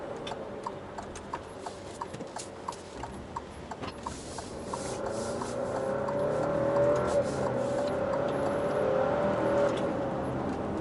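Alfa Romeo Stelvio Ti Sport driving at speed, road and engine noise building into a steady rising whine, with rapid ticking clicks over the first half, heard from inside without talking.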